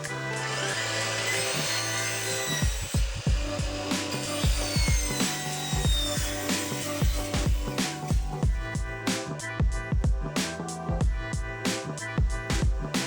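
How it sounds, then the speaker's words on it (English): A power saw cuts tongue-and-groove edges off triangular scrap wood pieces from stair landings, starting with a steady whine and then breaking into a run of sharp, rhythmic cutting bursts, loud and close. "I first cut off any tong and groove edges from all sides of the triangle pieces."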